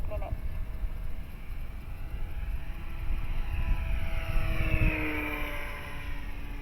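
A Dynam Super Cub model airplane flies overhead, its propeller drone rising and falling steadily as it passes through loops, with someone talking over it throughout.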